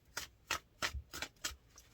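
Tarot cards are shuffled in a quick series of about six crisp riffling bursts, close and fairly quiet, with no talking.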